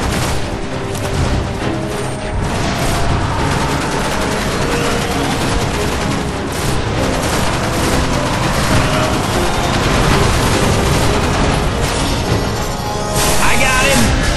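Dense, continuous gunfire and explosions from the video game Destiny, a loud unbroken barrage of rapid shots and booms, with people talking over it.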